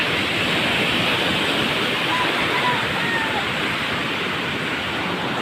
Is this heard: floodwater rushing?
yes